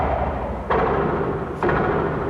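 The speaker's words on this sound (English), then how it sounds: "you get these really kind of like atonal percussive sounds" A Make Noise 0-COAST synthesizer patched with its slope into linear FM, producing a steady dense atonal drone punctuated by two abrupt percussive hits about a second apart, loud and close.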